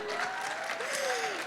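An audience at a live Xena fan convention with Lucy Lawless and Renee O'Connor breaks into steady, dense applause, with a voice faintly audible above the clapping throughout.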